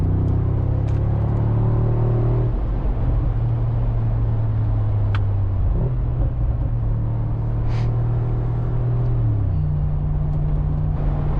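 A 2025 Mercedes-AMG G63 cruising on the highway at 130 km/h gives a loud, steady drone of engine and road rumble that continues unbroken, with no one talking.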